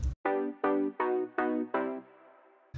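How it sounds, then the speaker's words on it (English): A synth pluck layer built in Serum, made from a basic wave layered with a second wave at the same octave, plays five bright, evenly spaced plucked notes, each short and decaying quickly, alone and clear. "and the first layer is a Serum layer"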